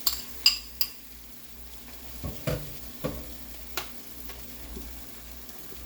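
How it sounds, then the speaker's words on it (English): Beaten egg for a breakfast wrap sizzles quietly in a pan while a utensil scrapes and clinks against it in a few sharp knocks, with a single brief spoken word near the start. "I am going to mix in that egg. And that's already cooking up really nicely."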